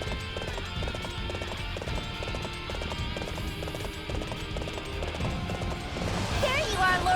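A horse gallops in the video game Dynasty Warriors 7, a fast steady clip-clop of hooves that runs all the way through, mixed with game music and a brief voice near the end.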